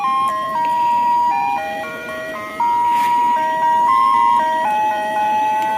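A toy Hello Kitty ice cream truck plays its electronic jingle, a bright stepping melody of clear beeping tones that rises and falls steadily, close by and alone.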